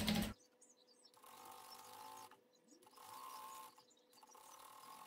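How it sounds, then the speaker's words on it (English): A sewing machine stitches close to the edge of a narrow hem with buckram, running in three steady whirring bursts separated by short pauses, fairly quiet and close. "We'll take that back to the machine and we're going to stitch really close to the edge here."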